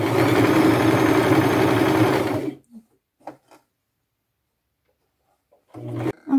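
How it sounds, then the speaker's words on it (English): A sewing machine stitches a doily onto a thrifted top in a fast, steady whir for about two and a half seconds, then stops, leaving faint handling clicks before a short final burst of stitching. "I'll just stick this underneath the needle, push it down, go forward and back to lock it in."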